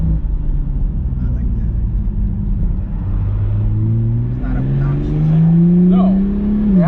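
A 2021 Toyota Supra with a newly fitted exhaust idles with a deep, loud rumble, then revs up in rising pulls, its tone climbing and swelling toward the end.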